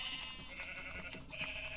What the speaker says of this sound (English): We can take the sheep.